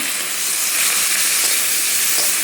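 Coriander and mint frying on a low flame, a steady bright sizzle and hiss from the pan, continuous and fairly close with no talking.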